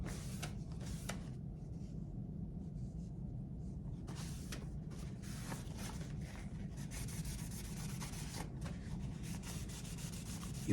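A Boker Blueshell knife blade drawn repeatedly across a leather strop, giving steady close rubbing and sanding strokes in an uneven rhythm over a low rumble.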